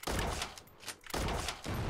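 Sniper rifle shots in War Tycoon, an AWP, two loud booming cracks about a second apart, each trailing off into a short rumbling decay.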